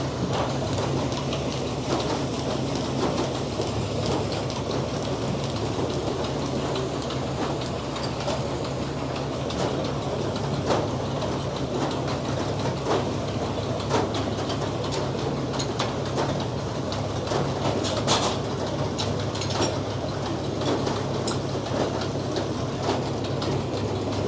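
Frick sawmill sawing a big poplar log, a continuous loud mechanical roar with rattling and faint clicking throughout, steady and uninterrupted.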